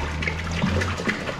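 Treated, conditioned water poured into a drum for a pond sump, a close, continuous gushing and splashing without a break.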